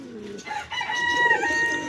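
A large, rare White King, a foreign chicken breed, lets out a short call among other birds, with overlapping coos and chirps from pigeons and fowl nearby and no talking.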